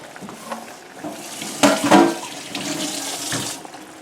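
A kitchen tap runs steadily into a sink while something is washed, with clinks of dishes and a louder splash midway, close and without talking.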